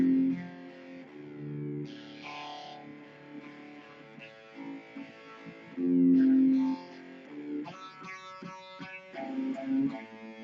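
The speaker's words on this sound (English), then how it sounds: "he kicks on a distortion. I don't have a distortion pedal, so I just turn my volume up." Electric guitar played through an amp with the volume turned up for distortion, picking out a riff in sustained, gritty notes and chords with a loud swell midway, no voices.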